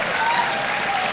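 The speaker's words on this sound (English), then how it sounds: "A cheer for Anti-Mage." Crowd at a Dota 2 grand final esports tournament cheering and applauding for an Anti-Mage play, a dense, steady roar of clapping and cheers filling the whole short moment.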